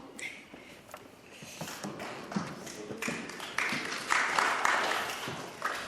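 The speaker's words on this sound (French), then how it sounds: "j'espère que les applaudissements seront plus nourris tout à l'heure" Sparse, scattered clapping from a small audience at a history lecture, a few hands tapping unevenly at moderate distance and building slightly louder toward the end.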